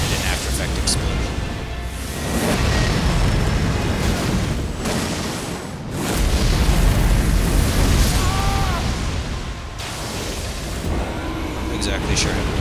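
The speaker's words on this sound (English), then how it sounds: "The lava and an after effect explosion." Lava and a lingering after-effect explosion in Elden Ring: Shadow of the Erdtree erupt as broad, rumbling bursts in repeated waves, heard alongside game combat noise and a person talking.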